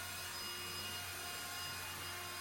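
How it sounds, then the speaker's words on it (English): Leaf blower blasting dust out of a dresser during a furniture makeover, a steady loud roaring whoosh that holds constant throughout, with no talking. "I love dusting everything out here with the leaf blower"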